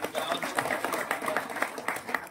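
A crowd applauding at a village ceremony for the ritual worship of a horse, dense clapping that stays steady throughout at moderate volume, with some voices mixed in.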